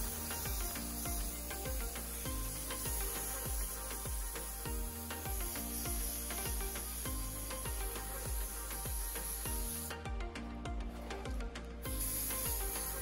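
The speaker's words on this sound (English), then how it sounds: "I tried to spray the molds from all different angles" Repeated short hissing bursts of a sprayer misting cocoa butter into bonbon molds, each puff soft and close, set against a steady low mechanical hum from the spray equipment.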